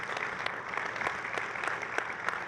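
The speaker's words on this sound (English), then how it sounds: "if anyone in this room voted on any of those ideas, I think you deserve a round of applause too" Applause from an audience at a Salesforce event, heard as a short, dense wash of clapping in a room, steady and moderately loud, with a few sharper nearby claps popping out.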